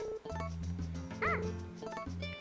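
A dog in the Harvest Moon: A Wonderful Life video game barks in short, cute synthesized yips over looping game music, fairly loud and clear with no talk.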